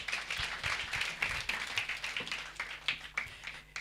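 A conference audience claps for a panel of speakers, a dense run of many hands clapping at moderate distance, steady for several seconds and fairly quiet in the room.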